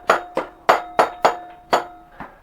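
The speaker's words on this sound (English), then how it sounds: "Sometimes you just hammer a little bit and it'll start to come out" Hammer blows on a part stuck to an engine crankshaft during a Hyundai Beta1 engine teardown, about eight sharp metallic strikes at an uneven, steady pace, close and loud with a ringing tone after each hit.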